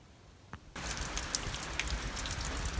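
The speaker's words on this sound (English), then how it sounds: "it's a rainy day" Steady rain falls on a grandstand on a wet day, a soft tap of scattered drops at first, then a sudden dense, even hiss of heavy rain that carries on without a break, close by and fairly loud.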